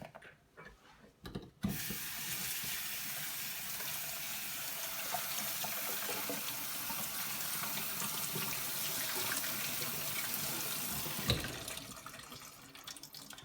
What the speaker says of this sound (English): When you are done mashing the saltfish, you are going to want to rinse it one more time